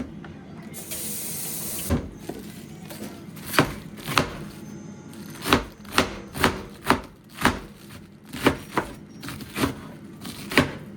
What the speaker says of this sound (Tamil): இப்போது முட்டைக்கோசும் வெங்காயமும் நறுக்கிக்கலாம்.